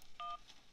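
A single short telephone keypad tone beeps once, brief and clean, over faint background hum.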